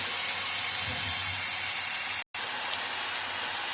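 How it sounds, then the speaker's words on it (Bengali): Chicken being fried for palak chicken with ground cumin, coriander, garam masala and Kashmiri chili powder, giving a steady, close hissing sizzle that cuts out for an instant midway. "জিরে গুঁড়ো, ধনে গুঁড়ো আর একটু গরম মশলার গুঁড়ো আর একটু কাশ্মীরি লঙ্কার গুঁড়ো দিয়ে মাংসটা কষছি।"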